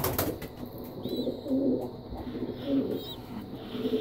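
Pet pigeons or doves coo softly nearby in a quiet room, several low, rounded coos in a loose rhythm with a couple of faint chirps, no talking over them.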